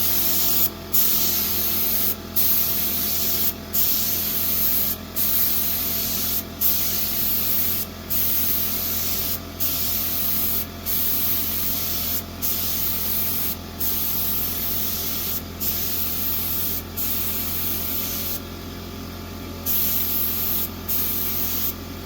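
A spray gun paints a steel building, a loud continuous hiss of compressed air and paint broken into regular bursts as the trigger is released every second or so, with a compressor humming steadily underneath.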